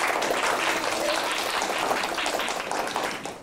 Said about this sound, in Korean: 여러분들이 박수로 용기 내줬으면 좋겠습니다. 박수 부탁드릴게요.